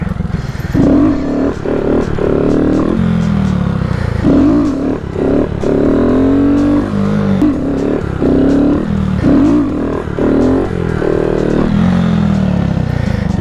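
A Honda Grom motorcycle engine revs up and down repeatedly in close, loud bursts during wheelie practice, with rising and falling pitch and some clatter between pulls.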